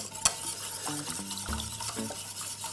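A spoon stirs vanilla into thick pastry cream in a pan, giving quick repeated scraping and sloshing strokes in a close, busy rhythm with faint clinks of utensil on metal.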